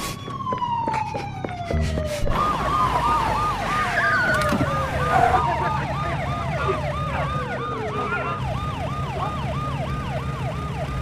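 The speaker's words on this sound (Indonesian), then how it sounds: "tiba-tiba sirine Raja Wali terdengar begitu dekat" A wailing siren sounds close by, its rising and falling cycles loud and continuous, with a second siren tone and traffic rumble underneath.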